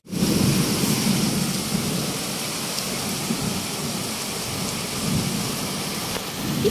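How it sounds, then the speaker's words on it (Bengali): Heavy, steady rain pours continuously with deep thunder rumbling underneath, loud and close throughout with no voices. "এই যে বৃষ্টির শব্দ শুনতে চাও তোমরা?"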